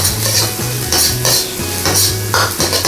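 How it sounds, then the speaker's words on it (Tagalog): Mackerel with chili sauce, butter and red bell pepper stirred in a pan: close, loud sizzling frying with rhythmic scraping stir strokes and light utensil clicks, no voices. "Stir lang po natin siya ng mga 15 seconds."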